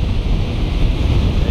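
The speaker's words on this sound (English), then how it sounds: "it's a little windy" Wind blowing at a beach beside the surf, a loud, steady buffeting roar with low rumble as gusts strike the microphone, mixed with the wash of waves.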